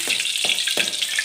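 Spices and popped mustard seeds fry in hot oil in a pan, giving a steady close sizzle with three soft thumps from stirring spread across it, and no talking.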